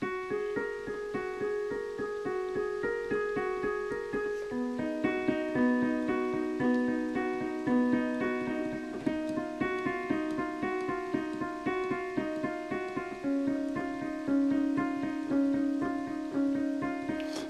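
Keyboard plays repeating left-hand note patterns, steady and even, alone with no voices, moving through several chord shapes in a continuous rhythmic figure.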